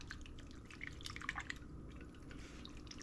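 Small amount of tepid water dripping and trickling into a homemade dough mix, a steady close patter of drips with faint liquid splashes and no talk.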